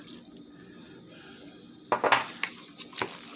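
A spoon works through a canned mackerel patty mixture with broth and seasoning in a bowl, a few sharp scraping and clinking strokes after a quiet stretch of faint kitchen hum.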